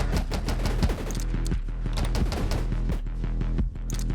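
Rapid, dense gunfire from the survival shooter game 20 Minutes Till Dawn, loud continuous volleys of shots layered over a constant game soundtrack with no pause.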